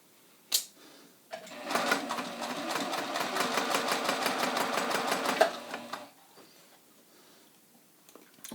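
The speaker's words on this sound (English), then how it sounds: "I'm going to sew along the line" A sewing machine runs a short stitch length along a drawn line to sew a dart, a steady rapid mechanical whir of needle strokes for several seconds, framed by a click and quiet handling before and after.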